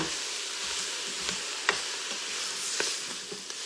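Kale sizzling and wilting in a hot pan or pot alongside other bowl ingredients, a soft steady frying hiss broken by a few stirring scrapes, fairly quiet and close.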